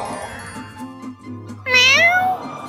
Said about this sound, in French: Miaou. Oh, un chat!